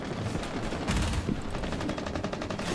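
Rapid automatic gunfire in the Rainbow Six Siege video game, a dense, steady stream of loud shots running through the whole stretch with no talk over it.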